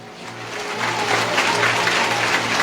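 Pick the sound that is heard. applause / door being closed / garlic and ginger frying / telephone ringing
applause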